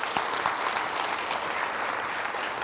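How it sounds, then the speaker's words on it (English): An audience applauds a volunteer at a keynote talk, with steady, dense clapping that is fairly close and sustained throughout, without pauses. "Let's give her a round of applause."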